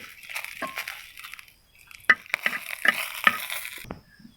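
Dried chillies rattle and crackle as they are stirred in a frying pan with a soft sizzle, with several sharp clinks of the utensil against the pan, then the sound cuts off.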